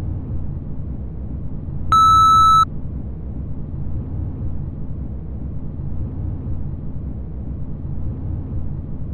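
A single electronic elevator beep, a clean steady tone lasting under a second, sounds over a low rumbling background.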